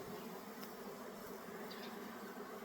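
Honeybees buzz faintly and steadily as they circle the upper entrance of a hive during spring bloom, a soft continuous hum with no voices.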